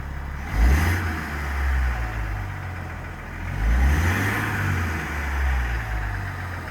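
A 2021 LM2 Duramax diesel engine with a 10-speed transmission, swapped into an 80 Series Land Cruiser, runs steadily with a deep low rumble, swelling louder twice as it revs slightly; no voices, just continuous motor noise.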